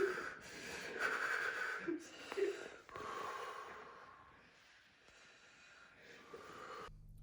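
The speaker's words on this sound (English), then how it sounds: "go into deeper breathing, and with the breathing, take more life energy" Deep, audible breaths taken during a workshop exercise, a series of wheezy inhales and exhales close by, some sharp and gasping, others softer and fading toward the end.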